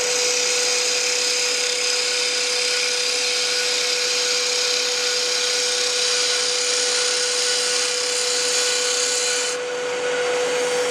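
Deep V 3/8 inch Ellsworth gouge slicing a pen blank on a wood lathe, a continuous loud hissing scrape over a steady motor whine, unbroken until a brief dip near the end.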